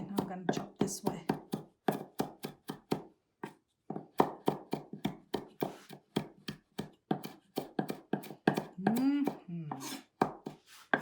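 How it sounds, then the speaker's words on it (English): A knife chops ingredients for Tibetan momo on a board in steady, close, rapid strokes with short pauses, while a person talks over the chopping. "I'm gonna chop this way"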